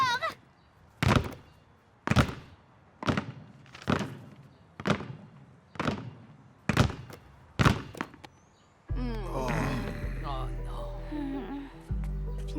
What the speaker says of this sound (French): On doit faire rebondir les balles aussi fort que possible.